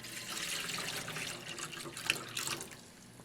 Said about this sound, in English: I have about the same amount of water. We'll pour that in.